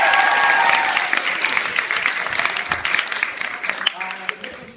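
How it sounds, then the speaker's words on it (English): Round of applause from a school audience, loud dense clapping at the start that gradually fades, with voices mixed in toward the end. "but give him a round of applause"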